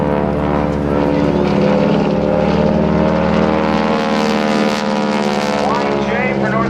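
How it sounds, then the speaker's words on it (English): A North American Aviation propeller aircraft roars steadily and loudly through an eight-point hesitation roll at an air show, its droning engine tone constant, with a voice talking over it. "why J for North American Aviation as Bill Leff does the 8-point hesitation roll"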